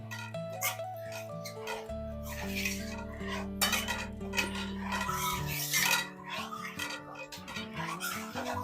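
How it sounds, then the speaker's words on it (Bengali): A spoon scraping and rubbing as milk is stirred in a pot in a home kitchen, soft rasping strokes repeated steadily beneath a sustained musical background. "এইবার এটাকে ভালো করে নেড়ে চেড়ে নিচ্ছি, যাতে দুধটা ডালা না থাকে।"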